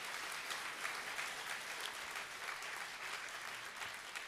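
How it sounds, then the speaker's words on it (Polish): A hall audience at a university academic-year inauguration and 25th-anniversary ceremony applauds award recipients, an even, sustained wash of many clapping hands, fairly distant and steady throughout. "ale brawa się należą"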